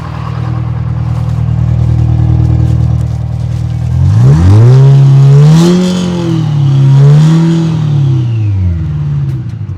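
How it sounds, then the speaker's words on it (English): A Ford F450 dually pickup idles steadily, then revs up through several rising and falling surges, the exhaust note loud and close. "see if you can get the noise of the exhaust"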